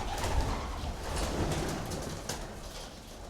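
Pigeons coo inside an old Japanese apartment under renovation, a dense, continuous murmur of many birds with soft rustling, close and steady, with no talk over it.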